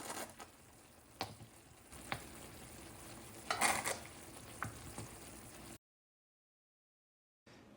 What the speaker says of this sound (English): let the apples cook over medium-low heat until they've really softened